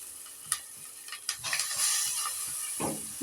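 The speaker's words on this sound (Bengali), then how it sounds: "এই যে আমার মশলাটা কষানো হয়ে গেছে, এখন আবার দিয়ে দিন চাল আর ডাল।" Rice and lentils being stirred into a pot of cooked-down spices, with a steady hiss and sizzle, a few scraping stirs and clinks, and no talk.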